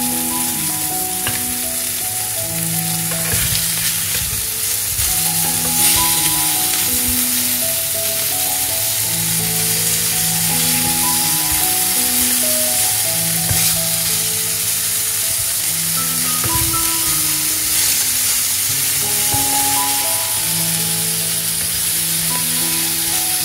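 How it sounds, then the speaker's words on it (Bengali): Rohu fish pieces frying in oil in a home kitchen give a steady, loud, continuous sizzle and crackle lasting the whole stretch, with soft musical tones underneath and no talking. "মাছ ভাজা হয়ে গেছে"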